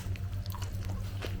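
Someone bites and chews tandoori chicken with butter naan and raw onion, moist close-up munching with soft crunches in a steady rhythm.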